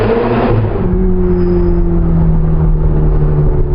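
Turbocharged Ferrari 488 Spider accelerating, a steady loud engine drone with rising harmonics and a throaty rumble, close and continuous throughout with no talk.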